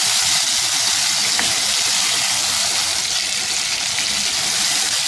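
Washed mutton liver hits a pan of cooked tomatoes and fries with a loud, steady, dense sizzle that stays even and close throughout, with no talk.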